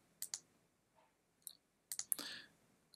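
A few quiet, sharp computer mouse clicks, scattered singly and in a quick pair across a near-silent background.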